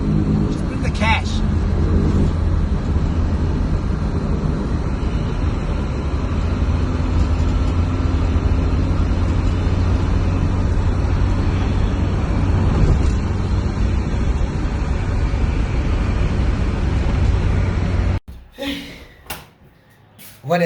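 A car engine rumbles loud and close throughout a rough, fast ride with rolling shots, with bumps and rattles in the mix, then the sound drops off abruptly near the end.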